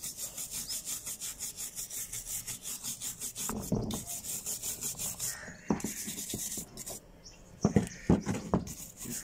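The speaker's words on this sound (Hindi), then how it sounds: "कोशिश करें ये वाली कॉपर वायर वाला ब्रश आप यूज़ करें" Copper wire brush scrubbing handgun parts during a home restoration, a steady rhythmic back-and-forth rasping that runs the whole time, close and fairly loud, with a few sharper clatters of metal parts near the end.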